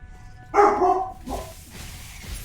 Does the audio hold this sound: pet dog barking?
yes